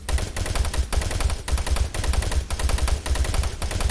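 Gunfire and rockets in Doom 3 play as loud, rapid bursts of shots in quick repeated volleys, a dense and aggressive stream of blasts with short gaps between them.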